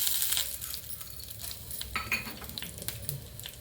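Urad dal and peanuts tumble into a pan and roast, with soft rattling, stirring scrapes and small clinks of a spoon against metal over a faint sizzle, close and quiet, with no talking.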